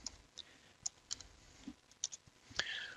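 Sparse, quiet clicks of keys being typed on a computer keyboard, a handful of separate taps spread unevenly with a slightly louder burst near the end.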